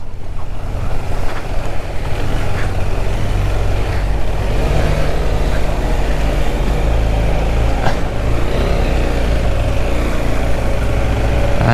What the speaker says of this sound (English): we are literally riding through the middle of a jungle.